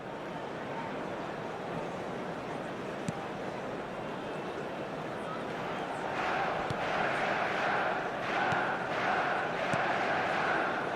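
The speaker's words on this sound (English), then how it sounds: "a lot of applause for the thought" Virtual stadium crowd in an eFootball 2026 football match on PS5 gives a broad, steady roar of applause that swells noticeably in the second half and stays loud to the end.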